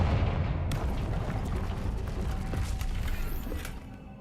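A Confringo explosive spell in Hogwarts Legacy gives a loud burst of blasts with mechanical rattling and rumbling that fades near the end, and no voices.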